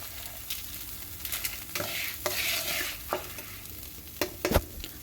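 A spoon stirs roasted moringa leaves in a hot pan, with scraping and rustling strokes in irregular bursts and a faint sizzle underneath, close and fairly quiet.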